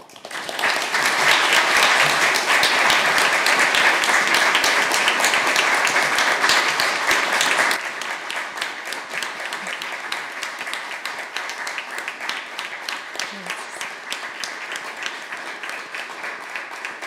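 An audience at an essay competition closing ceremony applauds with loud, dense clapping that stays strong for several seconds, then drops to lighter, thinner clapping that carries on to the end.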